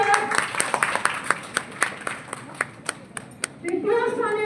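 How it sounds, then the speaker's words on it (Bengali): An audience at an award announcement breaks into applause, a series of sharp individual hand claps with scattered clapping around them, ending as a voice begins speaking. "জোরে হাততালি হোক"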